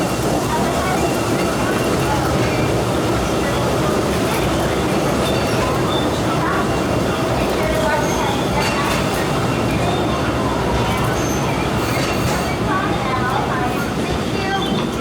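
The Disneyland Railroad train rumbles steadily along its rails, with a constant loud rolling drone and faint rattles throughout, and a recorded narration voice heard over it.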